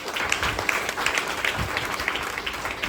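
An audience at a training session in a venue hall applauds, a dense continuous patter of many hands clapping together for a few seconds.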